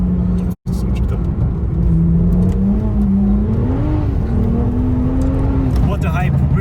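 A BMW 1M Coupe accelerates with traction control off in sports mode, its engine note rising steadily from inside the cabin, with a person talking over the drone.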